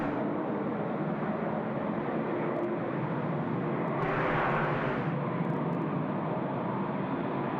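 A jet airliner at Sydney Airport rumbles on the runway, a steady mid-distance engine drone with a brief swell in the middle, no talk over it.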